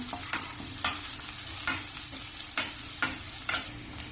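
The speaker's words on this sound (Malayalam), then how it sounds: "ഇതിലേക്ക് ഒരു പകുതി സവാള ചെറുതായി മുറിച്ച് ചേർക്കാം. കുറച്ച് സമയം ഇളക്കി വഴറ്റാം." Finely chopped onion sautés with spices in a hot pan for a dhaba-style soya chaap masala curry, a steady sizzle broken by rhythmic spatula scrapes roughly every half second.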